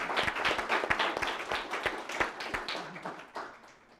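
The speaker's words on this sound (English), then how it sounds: "please join me in giving our panel a big round of applause." An audience applauding a panel discussion, many hands clapping in a dense, steady patter that tapers off toward the end.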